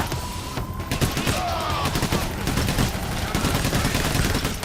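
Dense gunfire in Payday: The Heist, with rapid overlapping shots and automatic bursts rattling nonstop at close range over a busy, noisy background.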